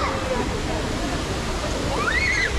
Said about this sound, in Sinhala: මේ වන්න මේ දිය ඇල්ලක් එනවා මේ ගස් අස්සෙන්